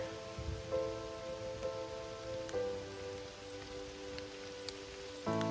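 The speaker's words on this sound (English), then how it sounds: "Temperatures dropped and the rain's picked up." Steady rain falls and patters on a surface on the Appalachian Trail near Rockfish Gap as temperatures drop, with a faint tonal hum running underneath.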